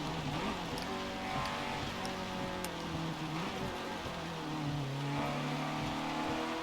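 A race car engine in the Forza Motorsport 7 game drones and revs on a wet track, the engine tone rising and falling steadily under a constant hiss of spray, moderately loud with no talk.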